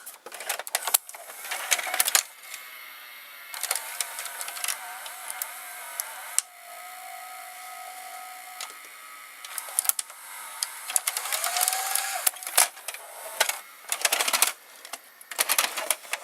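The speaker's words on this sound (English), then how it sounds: "Now you see the GoldStar again, loading." GoldStar R-E22M VCR loading a tape, a string of mechanical clicks, clacks and gear whirs from its internal mechanism, close up, starting and stopping irregularly with a steadier motor hum in the middle and no talking.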